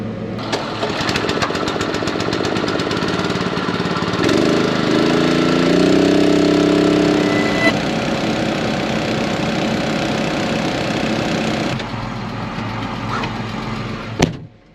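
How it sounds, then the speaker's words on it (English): A small engine-driven pump runs steadily and loudly while filling a water tank on a farm, its drone briefly changing pitch in the middle before it shifts down and cuts off near the end. "I don't know why that pump is pumping so slow"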